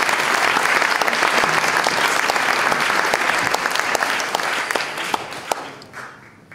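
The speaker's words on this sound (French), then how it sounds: "On peut applaudir Adeline Baldacchino" An audience at a French literary prize event applauds an author, dense clapping that holds steady, then thins into a few scattered claps and fades near the end.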